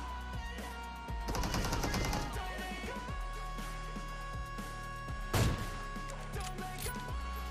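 PUBG gunfire crackles in a rapid automatic burst, then a lone louder shot follows, both over a steady backing score.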